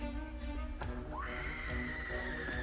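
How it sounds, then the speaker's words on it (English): A woman's scream from the 1985 horror film Re-Animator rises sharply into a long, sustained high shriek heard under a film soundtrack, with faint commentary talk beneath it. "And then The scream."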